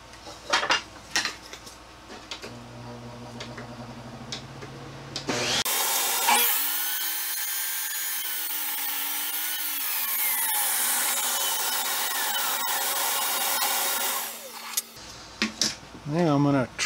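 A mesquite burl wood blank is sawn lengthwise down the middle, with a loud, continuous power-saw whine lasting several seconds. Brief clatter and rustling come before and after the cut.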